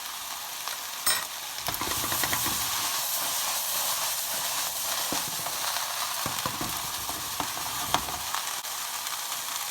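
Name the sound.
vegan ratatouille vegetables cooking in a pan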